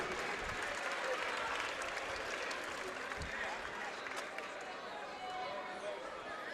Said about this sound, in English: Applause for Talia Davis.